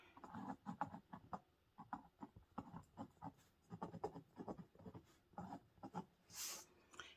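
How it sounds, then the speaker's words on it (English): Pen writing a message on a fabric postcard, a quiet close-up series of short scratchy strokes in uneven rhythm with brief pauses between words. "So I will just write on here, Merry Christmas."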